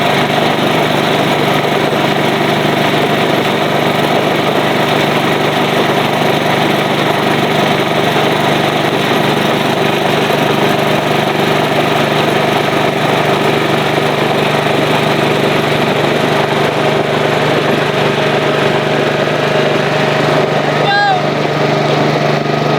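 A Mud Mower's small engine drones loudly and steadily while straining to pull a real tractor, a constant close roar with no pauses throughout.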